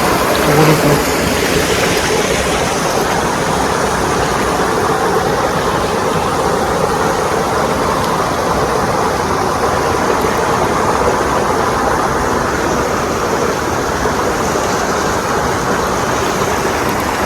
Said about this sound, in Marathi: पाणी कसं येते बघा